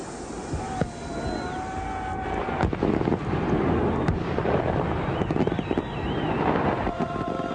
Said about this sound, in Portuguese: Fogos de artifício.